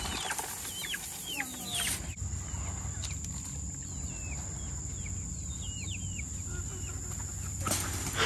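Chickens on a farm cluck in short, scattered calls at moderate distance over a steady background hum, with a brief flurry of sounds near the start and end.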